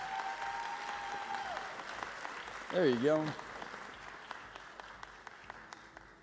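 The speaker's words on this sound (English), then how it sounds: "Keep that round of applause going." Audience applause for a Teacher of the Year finalist at a school district ceremony; steady crowd clapping with crisp individual claps, under brief speech and a short cheer, gradually thinning.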